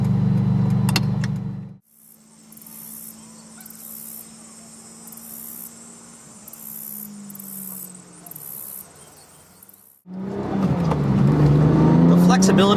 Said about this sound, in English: What else sounds like a 12-cylinder Ferrari?